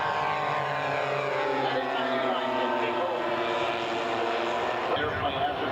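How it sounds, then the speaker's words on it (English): Steady droning of a four-engine scale model aircraft passing left to right at close range at an air show, a continuous layered buzz holding level throughout with a slight shift near the end. "Listen to these 4 engines from left to right pass."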